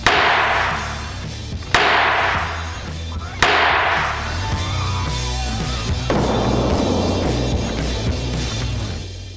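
Three sharp, loud cracks of a gun fired at homemade bulletproof glass made of 100 layers of adhesive tape, each impact followed by a hissing decay, then a longer rushing noise with faint voices underneath.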